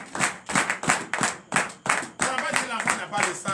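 A church congregation at a night deliverance and prophecy service claps in steady rhythmic acclamation, loud and close, with voices mixed in among the regular beats.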